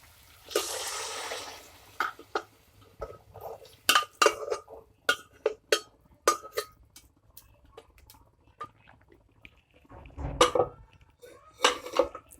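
Rajma curry stirred in a pot, with boiled kidney beans mixed into cooked onion, tomato and raw mango: a brief wet slurry at first, then scattered close spoon clinks and soft squelching scrapes against the metal pot, quiet with pauses.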